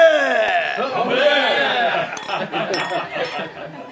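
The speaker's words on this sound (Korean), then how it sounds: "신부를 위해 모두 축배를 들었다" Glasses clink together at a wedding toast, with several bright chiming taps in quick succession over a bed of lively chatter and murmuring voices.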